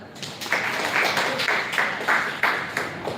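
Seminar audience clapping together in a steady round, with sharper individual claps standing out at a regular pulse over a dense, moderately loud crowd bed.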